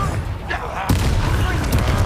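A Confringo explosion spell cast in the video game Hogwarts Legacy, a sudden loud blast that cuts in partway through and rumbles on with crackling impacts over background combat noise.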